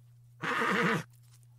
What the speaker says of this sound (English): There's that sound again. It's the horse.